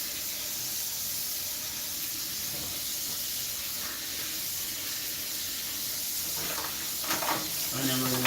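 Mushrooms, onion and garlic fry in a pan with a steady, even sizzle and hiss throughout, fairly quiet, with a few clinks and stirring sounds near the end.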